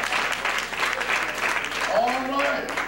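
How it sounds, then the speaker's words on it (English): Audience applause in a church congregation, sustained clapping at moderate volume throughout, with voices and cheers mixed in. "Give them all a hand"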